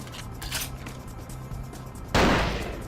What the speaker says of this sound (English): Is LA just constantly shooting all the time?